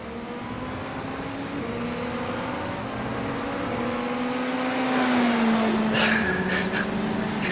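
Race cars lap the Le Mans circuit in iRacing, engines whining and shifting pitch through the gears, with a loud, close car swelling past near the end.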